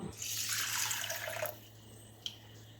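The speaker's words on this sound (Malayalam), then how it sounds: "വെള്ളം ഒഴിച്ചു കൊടുക്കാം." Water poured into a bowl of sago pearls (chavvari) to soak for a carrot dessert, a steady close splashing stream lasting about a second and a half, then stopping with a small drip afterward; no talk.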